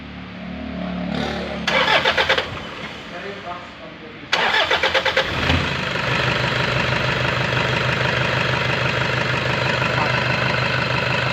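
A Toyota Hiace D4D van engine with a battery fault cranks in short bursts, catches on the second try, then settles into a steady, rattling idle, close and fairly loud.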